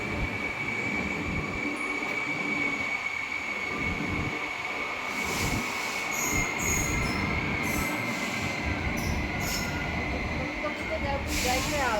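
The Lucknow Agra Intercity train rolls into a platform with a loud continuous rumble of wheels and high metallic squeals near the end, while people talk faintly in the background.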